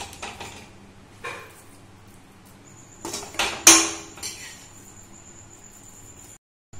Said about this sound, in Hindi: हम इसे निकाल लेंगे, प्लेट्स में निकाल के सजा लेंगे इसको।